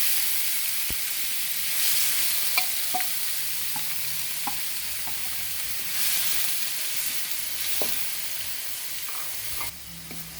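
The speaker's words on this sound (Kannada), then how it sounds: "ಈಗ ಈರುಳ್ಳಿ ಫ್ರೈ ಆಗ್ತಾ ಇದೆ" Finely chopped onions frying in a pan with lightly browned dal for avarekalu chitranna. A steady close hiss and sizzle runs throughout, punctuated by occasional sharp clicks from the stirring spoon, with no talking.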